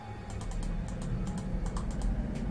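A computer mouse clicks in quick, light bursts, crisp ticks in small clusters over a low steady background hum.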